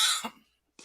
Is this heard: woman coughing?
yes